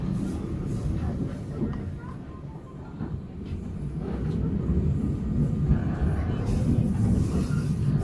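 Passenger train KA Pangrango pulling into Cigombong station in Bogor, a steady low rumble of rolling carriages rising slightly toward the end, with faint voices underneath.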